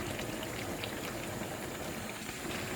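Hot water boiling in a pan of Thai catfish curry, giving a steady, dense bubbling roar that runs unbroken and fairly loud throughout, with no voices.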